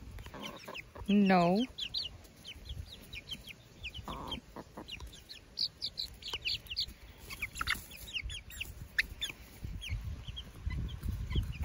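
Young chicks cluck and peep in a quiet run of soft calls, one high trilling cheep standing out early, while a person speaks briefly nearby.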